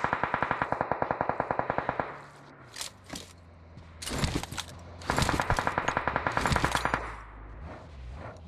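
Automatic gunfire in PUBG Mobile rattles in fast bursts, one long burst followed by a pause and then further clusters of shots with echoing reports, fairly close and with no voices over them.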